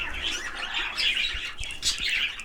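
Budgerigars chirp and warble continuously in a breeding group, a busy mix of bright twittering calls close by, without pauses.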